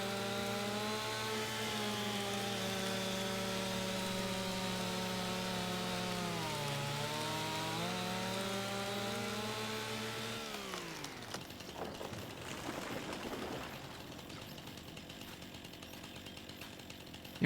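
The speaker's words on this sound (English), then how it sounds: "Wonder if I can cut that stump out a little bit." A chainsaw cuts a tree stump in Farming Simulator 25: a loud, buzzing engine whine sags in pitch under load, then stops abruptly and gives way to a scraping, crunching clatter.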